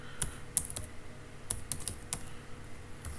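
Close typing on a computer keyboard, a scattered run of light key clicks in short irregular bursts, with no talking.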